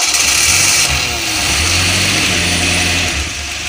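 A Suzuki Espass car engine running on LPG cranks under the starter, with a rattling ratchet-like grind that gives way to a rough, uneven idle, loud and close.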